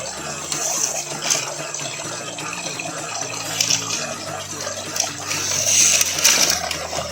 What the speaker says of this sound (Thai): น้ำก็ยังไหลเรื่อยๆอยู่นะครับ